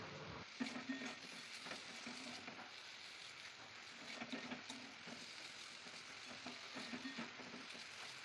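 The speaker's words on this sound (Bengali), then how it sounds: "আলু পটলের আলুগুলো সেদ্ধ হয়ে এসেছে এবার একটু ভালো করে ভেজে নিতে হবে" Boiled potatoes, the potato pieces for a potato-and-pointed-gourd dish, frying in a pan with a steady close sizzle and occasional stirring scrapes, no voices.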